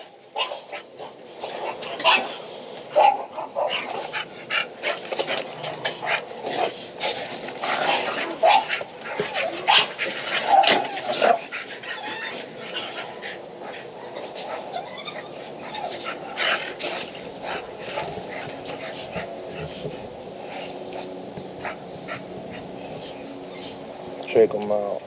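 American Bully and English Bulldog dogs bark and pant close by over 25 seconds, with repeated short yaps and a few whimpers, while people talk over the dogs throughout.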